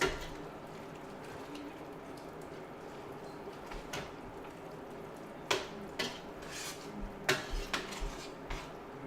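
A wooden or metal spoon stirs simmering Thai green curry with chicken and vegetables in a pot, making quiet scraping over a low background, then several sharp clinks against the pot's side toward the end.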